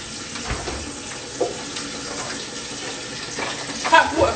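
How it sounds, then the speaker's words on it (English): Hot water poured from a vessel during a casual live stream, a soft continuous trickle under light background noise with a few bumps and louder splashes near the end. "I pour hot water and"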